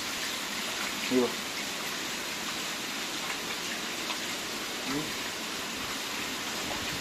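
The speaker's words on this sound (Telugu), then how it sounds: "ఏమి పుట్టుపుట్టు వాన కొడుతుంది చూడు, భయంకరమైన వాన." Steady heavy rain pours without letup in Karimnagar, with floodwater coming off a building, a dense hiss with a couple of faint voice murmurs low beneath it.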